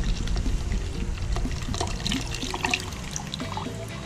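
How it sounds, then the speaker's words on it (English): Juice pours from a freshly cracked coconut in Hawaii, a close, continuous trickling and splashing stream that wavers slightly in strength, with no voices over it. "we just cracked open another one and we're gonna pour the juice inside"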